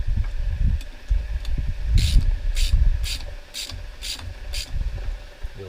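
Ratchet clicking as 8mm bolts are turned on a Suzuki Jimny brake drum, a run of about six sharp, evenly spaced clicks over a low mechanical rumble.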